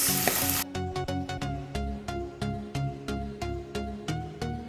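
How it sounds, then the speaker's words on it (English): Sliced onions sauté in a pan over a medium flame, following a crushed green chili and garlic mixture: a loud sizzle opens, then steady frying crackle punctuated by regular clacking stirs, close up, no talking. "Saute it for 2 to 3 minutes on a medium flame"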